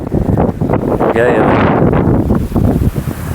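Strong wind buffets the microphone on a farm field planted with soybeans, a steady roaring rush running under someone talking close by throughout.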